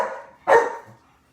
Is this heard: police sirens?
no